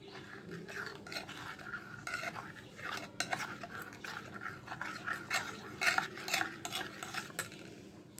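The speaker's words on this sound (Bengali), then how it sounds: "তারপর সবটা একসাথে ভালো করে মিক্স করে নেবো" A spoon stirs a homemade hair pack mixed with tea liquor in a bowl, making close, continuous scraping and clinking with a quick, uneven rhythm and no talking.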